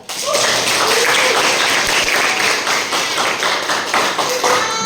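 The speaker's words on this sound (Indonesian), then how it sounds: "Ya, tepuk tangan dulu." A classroom of biology students applauds together, a steady dense patter of clapping hands filling the room from start to finish, with a few faint voices mixed in.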